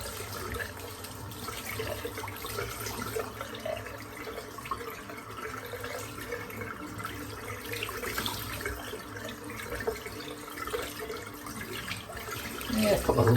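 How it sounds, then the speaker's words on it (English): Shaving brush rinsed under a running tap in a sink, a steady close hiss and splash of flowing water that continues throughout and swells near the end. "let's rinse the brush out."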